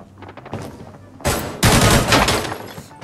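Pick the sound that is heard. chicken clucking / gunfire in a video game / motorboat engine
gunfire in a video game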